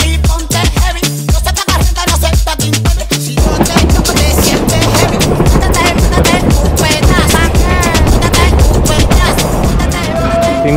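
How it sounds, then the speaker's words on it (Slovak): A historic tram running between Sóller and Port de Sóller on Mallorca rolls along with a loud, continuous rattling rumble and clatter, with people talking over it. "Týmto vláčikom sme prišli a touto trámkou, električkou pôjdeme do Port de Soler."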